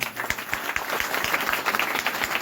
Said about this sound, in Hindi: एक बार यीशु मसीह के लिए ताली बजाओ।